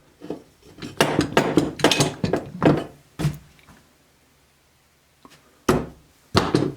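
A homemade camera arm for self-filming hunts is loosened at its thumb screw and pulled off its tree-mounted base, producing close clattering, scraping and clicking handling noises in bursts, with a quiet pause in the middle.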